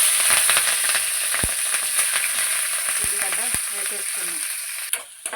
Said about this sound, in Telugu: ఆయిల్ హీట్ ఎక్కింది ఇప్పుడు పచ్చిమిరపకాయలు